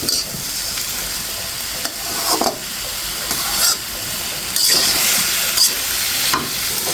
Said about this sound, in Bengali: এখন নেড়ে চেড়ে লাউটা ঢাকনা দিয়ে কষিয়ে নেব।